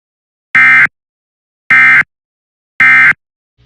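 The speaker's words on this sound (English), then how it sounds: "The following tones will conclude this test." Three identical emergency alert system test tones, each a loud harmonic burst lasting about a third of a second, sounding at an even pace roughly one second apart with silence between them.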